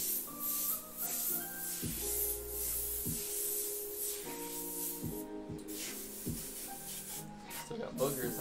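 Hissing airbrush spray bursts in short, repeated passes while lettering a name in graffiti script, with a sputtering, uneven flow from a partly clogged nozzle, close and steady with intermittent tonal noises over it.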